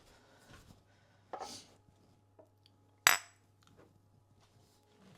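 Glass jars being handled in a quiet room, with a few isolated clinks and knocks, one sharp bright clink standing out among softer taps and brief rustles.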